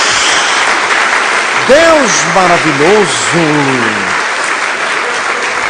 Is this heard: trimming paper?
no